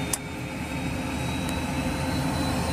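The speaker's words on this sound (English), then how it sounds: "And now we can turn our ground idle up to high." A Cessna Citation 560 jet engine hums at ground idle being turned up to high idle during engine start, a steady loud whine with a constant low rumble and a faint click near the start, with no voices.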